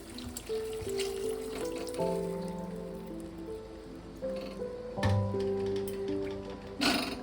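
Water poured into a pan of fried spice paste and bitter gourd, producing a splashing trickle over fading sizzle, with a few louder splashes and clatters toward the end.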